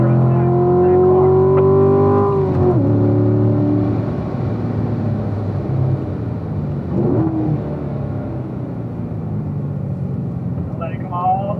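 A race car engine at full throttle on a downhill track, roaring loudly and climbing in pitch before a gear change, then holding a steady drone with another shift near the end, while a coach talks over it.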